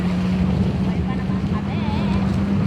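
Banana boat towed fast across open water, with a steady motor drone and wind rushing past the microphone throughout, loud and continuous, while a voice talks faintly over it.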